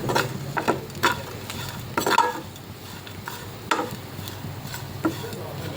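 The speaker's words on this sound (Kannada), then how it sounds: "ಫಾಸ್ಟ್ ಇಟ್ಕೊಂಡು ಈ ರೀತಿ ಫ್ರೈ ಮಾಡಬೇಕು." Onions frying over a high gas flame in a pot for mutton gravy, with steady sizzling and repeated spatula scrapes against the metal, close and loud without speech.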